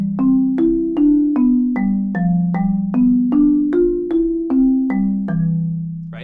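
A keyboard plays the second measure of an arpeggio pattern built from chord inversions: about fifteen evenly spaced notes, each struck and left to ring and decay, climbing and falling in a steady rocking rhythm, loud and alone.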